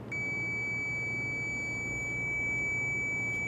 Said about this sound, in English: So if I test that plug, you can hear that beeping